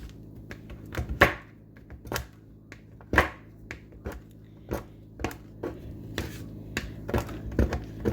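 Chocolate chopped with a knife on a board, left out at room temperature first: a dozen or so crisp, sharp chops in an uneven rhythm, some sharper, close and fairly loud, with no voice.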